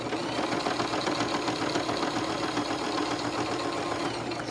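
Sewing machine stitching fabric for shabby chic tags, a close, steady mechanical whirring hum with rapid needle chatter running continuously throughout, no talking.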